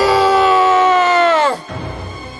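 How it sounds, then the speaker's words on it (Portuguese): Possessed men screaming in a Portuguese Bible reading: one long, loud, high-pitched scream that sags in pitch and cuts off, followed by quieter rough noise. "Eles começaram a gritar:"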